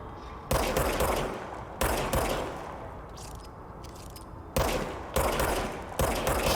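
Bursts of rapid gunfire in a video game, several loud volleys separated by brief lulls, with dense crackling shots that ring on between bursts, heard without talking.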